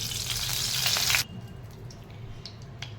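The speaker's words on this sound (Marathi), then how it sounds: "हे तूप गरमच आहे तरी पण थोडं गरम होऊन देणार आहे" Ghee heats in a pan with a loud, bright sizzle that cuts off abruptly after about a second, leaving faint crackles and light clinks in a quiet kitchen.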